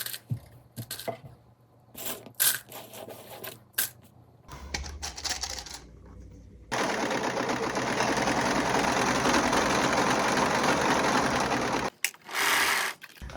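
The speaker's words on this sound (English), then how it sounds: "I'm gonna serge around the edges" A serger overlock machine stitches around the fabric edges of a custom vest, first in short start-stop bursts, then in one long steady whirring run before a final brief burst, close and loud with no talk.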